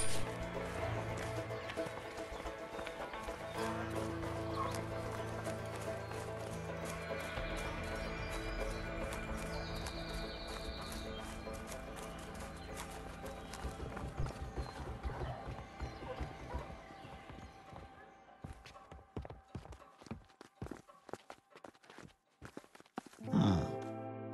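Horses' hooves clip-clop in a steady running rhythm, fairly loud and close for most of the stretch, over a busy background before thinning out toward the end.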